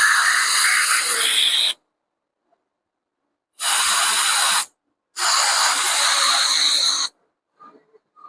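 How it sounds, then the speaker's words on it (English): Contact cleaner sprayed onto a clogged motorcycle MAP sensor from a Royal Enfield 650, heard as three loud, close hissing aerosol bursts of about two seconds each, separated by silence, with a faint small clatter at the end. "You can spray this contact cleaner inside the pin also."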